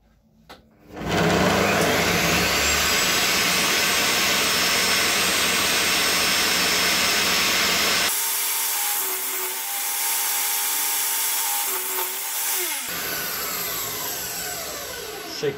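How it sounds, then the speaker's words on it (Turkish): Power saw ripping wood pieces lengthwise for a homemade lathe, starting up with a loud whine and cutting steadily, the pitch shifting as the blade moves through the wood, close and alone. "Şimdi dikeylemesine keseceğim bunları."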